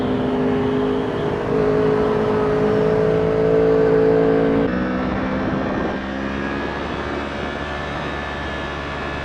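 A Yamaha R1 motorcycle with a badly worn sprocket, only six teeth left, putters along under light throttle with a loud, steady engine drone whose pitch shifts slightly as it rides.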